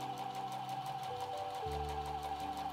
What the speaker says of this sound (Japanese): カバン入れ口部分をミシンで縫います